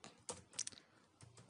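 Short bursts of keystrokes on a computer keyboard, close and fairly quiet, with clustered clicks and a brief pause between.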